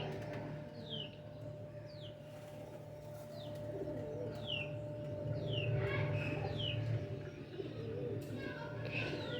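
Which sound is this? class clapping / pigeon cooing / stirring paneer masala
pigeon cooing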